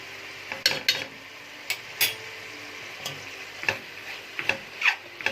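Sausage sautéing with onion and garlic in a pan, a soft continuous sizzle broken by repeated spoon scrapes and clinks against the pan at an uneven pace, close and without talk.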